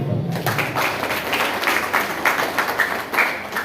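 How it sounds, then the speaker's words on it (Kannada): Loud applause from an audience at a gathering, a dense continuous wash of clapping that swells in waves throughout. "ಒಂದು ಜೋರಾಗಿ ಚಪ್ಪಾಳೆ"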